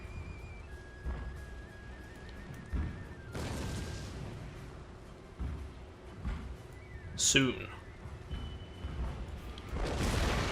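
Artillery shells slam into fortress walls in the Fall of the Samurai strategy game, with several booming impacts and one sharp crack scattered under ongoing talk.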